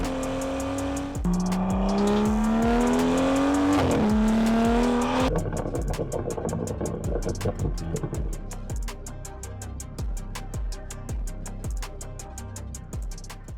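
A BMW M235i track car, rebuilt after a crash with a carbon fibre bonnet and new alloys, revs its engine in rising, loud bursts, then settles into a rough, rapidly pulsing idle and burble, with no talking.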